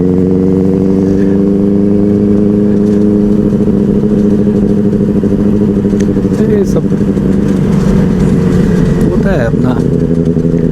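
A Benelli 600i motorcycle fitted with an aftermarket silencer idles and revs loudly up close, with a steady engine drone and a couple of sharper blips, while someone talks over it.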